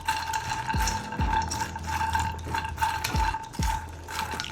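Makhana (fox nuts) dry roast in a pan. Close, irregular stirring scrapes and light rattling knocks repeat over a faint steady background hum, with no talking.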